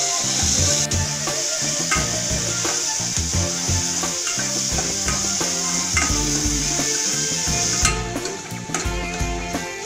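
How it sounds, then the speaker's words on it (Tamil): Steady, busy sizzling from a hot pan as tomatoes are sautéed and stirred, with scraping and clinking throughout and no voices. "நல்லா வதக்கிக்கணும்."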